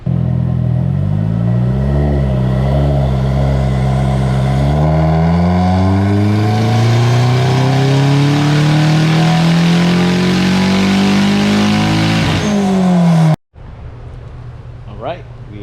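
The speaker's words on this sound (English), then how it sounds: "I'm pretty happy to finally go full throttle all the way to the rev limiter and see what this thing feels like" A Nissan S14 engine is pulled at full throttle up to the rev limiter, its loud note climbing steadily for over ten seconds before it abruptly drops off, followed by a quieter idle.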